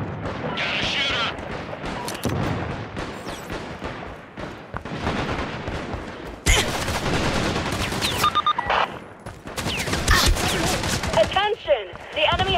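Loud gunfire in the tactical shooter video game Caliber, with heavy bursts of automatic fire, explosive booms and battle noise; people talk amid the shooting.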